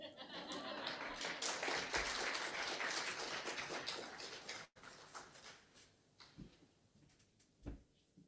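Audience applause after a speech at a Women In Sport conference, dense clapping filling the first half then thinning to scattered claps, with faint voices underneath.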